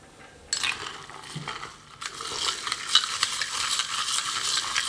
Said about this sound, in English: All right, let's give it a stir.